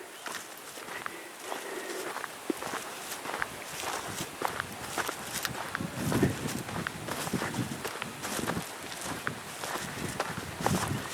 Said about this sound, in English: I can hear the sound of my own footsteps.